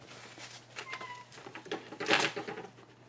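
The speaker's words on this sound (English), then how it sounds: "My cat agrees. She was meowing." A cat gives a few faint, short meows amid quiet rustling and a soft thump in an indoor room, with no talking.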